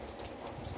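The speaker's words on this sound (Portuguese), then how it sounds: "E chegando mais, muita chuva mesmo," Heavy rain arriving over a lagoon in Brazil's Northeast pours down as a dense, loud, continuous hiss of drops with no pause.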